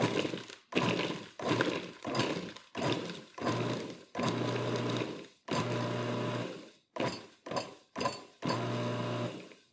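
A food processor pulses a raspberry bar mixture in a series of short, loud whirring bursts separated by brief silences, close and mechanical, with some of the bursts running longer than others.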